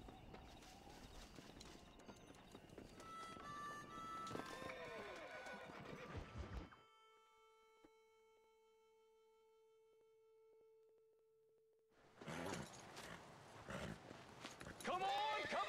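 Horse hooves clip-clop in Red Dead Redemption, with neighs and game sounds over the first seven seconds, then a quiet stretch with a sustained tone before louder action and shouting voices return.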